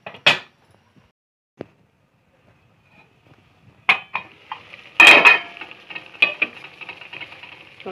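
A lid set down on a pot of curry, a sharp metallic clink followed later by a cluster of rattling clanks and scrapes of cookware, with quieter kitchen clatter in between.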